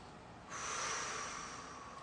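A deep breath drawn during a yoga twist sequence, one long airy inhale that swells after a brief quiet start and then eases off, close and alone with no talk.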